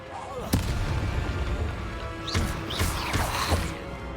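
The Incendio fire spell is cast repeatedly in Hogwarts Legacy: one sharp burst, then several whooshing fiery blasts over steady game ambience.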